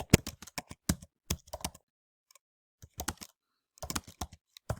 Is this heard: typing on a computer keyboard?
yes